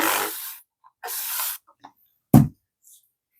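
Spray bottle spritzed over resin coaster molds: two longer hissing bursts followed by a shorter sharp puff, close and fairly loud, with silence between them.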